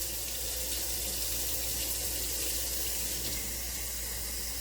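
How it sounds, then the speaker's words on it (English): Heated water runs from a tap into an empty bottle, a steady, fairly soft rushing splash that holds evenly throughout without speech. "So the water's heated up. So this bottle is empty. We're going to go ahead and fill it."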